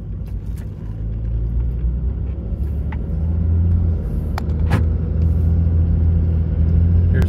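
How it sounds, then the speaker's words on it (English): A Cummins diesel engine idles steadily, a loud, continuous low rumble with faint clicks on top and no speech. "So here we're at idle."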